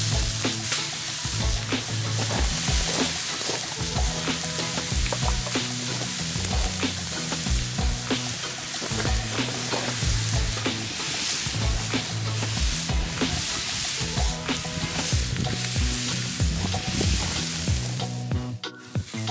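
Beets, pineapple slices and burger patties sizzling on a grill for an Aussie burger: a loud, steady sizzle and crackle throughout, with faint rhythmic music underneath and no talk.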